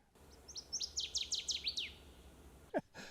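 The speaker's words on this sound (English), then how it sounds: "Northern water thrush." A Northern waterthrush sings one loud, clear phrase of about ten rapid, descending chirps that speed up, then stop; a short separate call follows near the end, with no voices.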